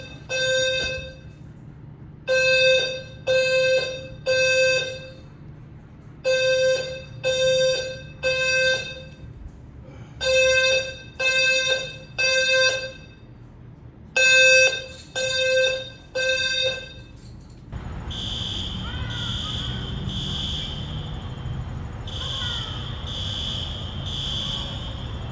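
Indoor fire alarm sounding in loud, evenly spaced triple-beep bursts that repeat with short pauses, then gives way to a steady continuous shrill tone with a fluttering pulse, prominent and close with no talking.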